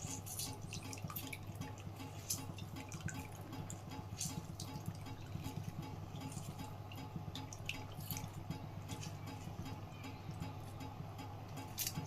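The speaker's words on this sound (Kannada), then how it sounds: "ನಿಂಬೆಹಣ್ಣು ರಸ ಹಾಕೋತಾ ಇದ್ದೀನಿ." Lemon juice is squeezed into biryani in a cooker, with soft patters and drips over a low steady kitchen hum, close and fairly quiet.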